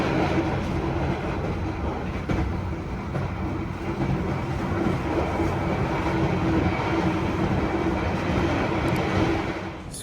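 A train pulls into Solo Balapan station, its steady rolling rumble and rail noise loud and continuous throughout.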